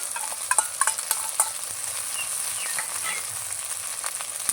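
Tomato and ginger-garlic paste sizzle steadily in a hot frying pan, with close stirring scrapes and a few sharp spoon clicks on the pan near the start.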